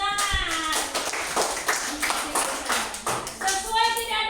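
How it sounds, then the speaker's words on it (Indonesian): A class claps hands together after a group presentation, a burst of quick scattered claps under loud overlapping voices and chatter from students and a teacher. "Oke, tepuk tangan."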